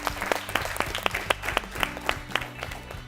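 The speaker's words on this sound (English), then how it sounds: "Please clap for them." Audience applause for a quiz team at a televised quiz competition, a steady spread of many hands clapping, moderately distant, with some louder individual claps standing out and a low hum underneath.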